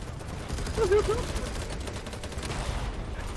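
Rapid gunfire bursts from the video game Battlebit, a dense fusillade of shots continuing steadily under game noise, with players' voices mixed in.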